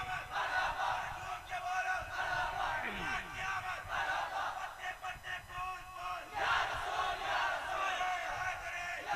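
Crowd at a naat gathering chanting a slogan: many voices shouting together, loud and sustained, with rhythmic swells and repeated cries.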